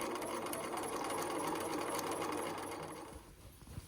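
A sewing machine stitches a topstitch line on an A-line dress, a steady fast mechanical whirring hum close by that slows and stops near the end, followed by a few light clicks.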